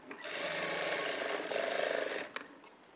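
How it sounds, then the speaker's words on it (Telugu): Nearby, a sewing machine stitches a blouse shape belt in one quick, steady run of rapid needle chatter lasting about two seconds, followed by a couple of light clicks as it stops. "ఇక్కడ నుంచి ఈ విధంగా ఒక స్టిచ్ వేసుకోవాలి"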